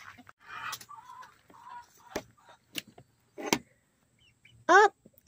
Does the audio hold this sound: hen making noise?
yes